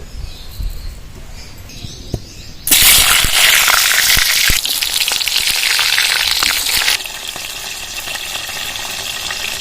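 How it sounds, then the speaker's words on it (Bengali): Pointed gourd (potol) frying in mustard oil in a wok, a loud bright sizzle erupting suddenly and holding for several seconds before settling to a lower crackle. "ভালো করে পটলগুলো ভেজে নিতে হবে"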